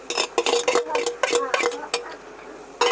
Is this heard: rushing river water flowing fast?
no